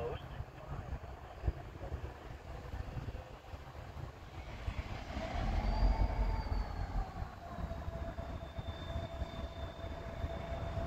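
A Norfolk Southern freight train passes through Tarentum, Pennsylvania, a steady rumble of railcars with wheel squeal rising midway and a long high tone, heard at moderate distance throughout.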